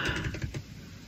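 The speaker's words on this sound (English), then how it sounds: "Now we will type one more thing" Typing on a computer keyboard while coding MicroPython for an ESP32 board, a quick cluster of soft, close keystrokes over about half a second that then trails off.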